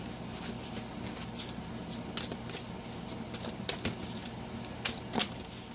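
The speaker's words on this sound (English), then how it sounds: "Let me just keep shuffling." Soft rustling and crisp flicking of tarot cards being shuffled, quiet and close, with a few sharper snaps over a faint background hum.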